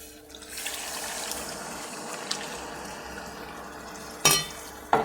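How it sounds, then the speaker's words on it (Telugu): Tamarind broth poured into a pan over fish pieces gives a steady, close liquid rush and bubbling, with a couple of sharp clinks near the end and no talking. "ఈ ముక్కలన్నీ ఇలా వేసేసి పులుసు పోసేయాలండి"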